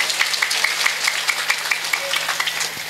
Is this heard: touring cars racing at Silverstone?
no